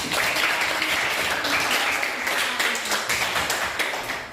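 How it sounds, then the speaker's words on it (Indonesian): Classmates in a school classroom clap for a student after an Indonesian-language poetry lesson, a steady patter of hand claps lasting several seconds at moderate level with faint voices mixed in. "bagus sekali, tepuk tangan untuk Amanda"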